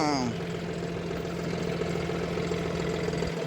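A John Deere 5310 2x2 CRD tractor engine runs steadily in second gear, a loud, constant low rumble with an even mid-range drone. Someone talks over it.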